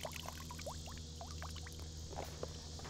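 Hat being dunked and filled with river water while fishing, with splashing and trickling gurgles against steady outdoor background noise.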